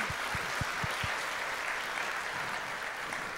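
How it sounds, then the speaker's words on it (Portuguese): A church congregation applauds its facilitators with a sustained wash of clapping, while a few louder low thumps stand out near the beginning and the sound holds even to the end. "Vamos aplaudir nossos facilitadores."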